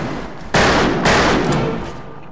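Rapid gunfire in a Western shooter video game, Fistful of Frags, fired in fast shoot mode: two loud, close bursts of dense shots, each roughly half a second long, the second trailing off into reverberation.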